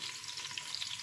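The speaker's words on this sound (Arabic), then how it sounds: "باش نفوح كيما قلت لكم بالبصل" A large chopped onion fries in a pan as the base for Tunisian couscous, producing a soft, continuous sizzle with faint crackling, close and steady.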